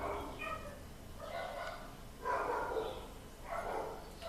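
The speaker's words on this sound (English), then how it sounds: "She's hearing a dog barking." A dog barks from a distance in a few separate, faint bursts spread across a few seconds, with a low steady background and no talking.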